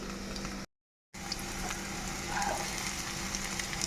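Potatoes frying in hot mustard oil give a steady close sizzle with a soft crackle. A brief silent gap breaks the sound near the start, and no one speaks.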